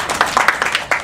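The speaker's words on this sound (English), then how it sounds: "Everybody give them a round of applause." Audience applause at a nutrition workshop talk, a short, close burst of scattered claps lasting about a second.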